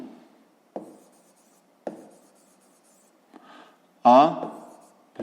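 Chalk or marker writing on a board during a fifth-grade math lesson, with a few short, separate strokes and taps, followed by a teacher's voice speaking briefly near the end.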